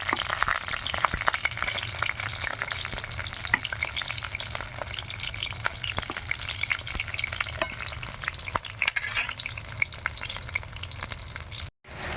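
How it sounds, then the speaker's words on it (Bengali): Steady, close frying of pointed gourd in oil, a dense crackling sizzle with scattered pops that continues throughout without pause. "পটলগুলো ভেজে নেওয়া হয়ে গেল"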